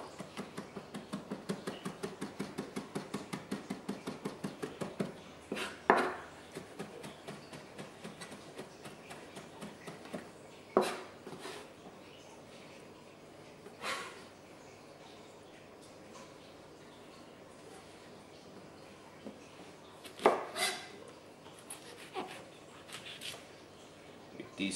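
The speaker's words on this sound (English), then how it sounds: "So I now finally chop the pickled ginger." A knife chops pickled ginger on a board, first in a fast, even run of light taps, then in sparser clusters of cuts with a few louder knocks, quiet and close.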